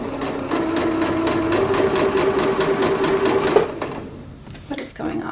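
A sewing machine stitches an elastic waistband on a skirt, running steadily with a rapid, even mechanical pulse for about three seconds before stopping, after which a few clicks and light handling follow.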